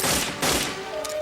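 Explosions from the action film Demolition Man, set in an apocalyptic future, come as two rapid heavy blasts in quick succession, loud and close, followed by a sharper crack near the end.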